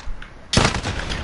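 A single sharp, loud gunshot cracks out in Call of Duty Modern Warfare, followed by a brief ringing tail after a moment of quieter game sound.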